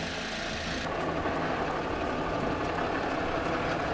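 A Ram truck engine idles on off-road trails in Moab, giving a constant dense broadband rumble with a steady throb, loud and close with no talking.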